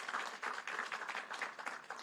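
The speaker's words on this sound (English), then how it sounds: "Let's give him a big round of applause." A crowd at a California Volunteers recruiting event in Orange County claps briefly, a faint patter of scattered hands heard from a distance.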